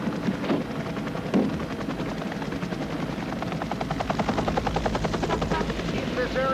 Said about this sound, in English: We have helicopters coming and going.